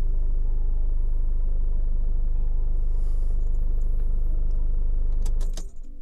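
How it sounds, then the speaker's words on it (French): A diesel car engine, started with a JFEGWO 3000A jump starter booster, runs in a loud, steady, even throb close by, then drops away abruptly just before the end, followed by a few light clicks. "préchauffage et ça démarre sans souci"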